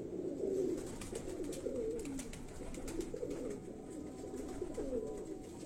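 A held pigeon of a master breeder's line gives low, throaty coos in repeated rolling phrases, close and fairly faint against a rough background hiss.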